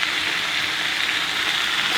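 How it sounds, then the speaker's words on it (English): Food frying in a pan with butter and seasonings, a steady close broadband sizzle hissing without pause and with no voices. "You can hear it start sizzling."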